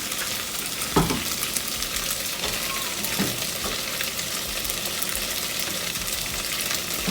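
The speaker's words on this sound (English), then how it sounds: "now I'm adding coconut milk. Just enough for it to simmer in." Coconut milk simmering with cooked spaghetti in a pan for a vegetarian pasta in cream sauce, giving a steady, close bubbling sizzle throughout with a couple of soft knocks near the start.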